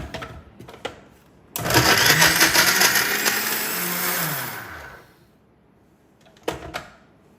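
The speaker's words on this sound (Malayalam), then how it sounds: "ഇതാ ഞാൻ മിക്സിയുടെ ജാറിലേക്ക് മിക്സിയുടെ ആ ഒരു ചെറിയ ജാറില്ലേ അതിലേക്ക് കട്ടാക്കി ബ്രെഡെല്ലാം എടുത്തിട്ട്" A small mixer grinder jar whirs loudly as it crushes bread pieces into crumbs, one continuous burst of about three seconds with motor pitch dipping as the load grinds down, bracketed by clicks and clatter of the jar being handled.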